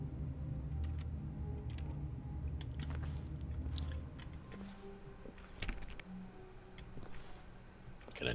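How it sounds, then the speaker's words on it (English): Keyboard typing noises in the video game The Stanley Parable: irregular faint clicks and taps over a steady low hum, with no voices. "Sounds like a keyboard noises"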